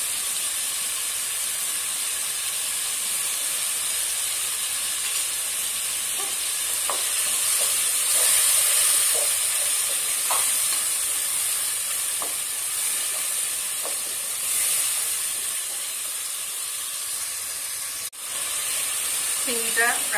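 Prawns frying in a pan with cumin paste for a bottle gourd curry, giving a steady broadband sizzle and hiss throughout, with occasional light stirring clinks and scrapes close by.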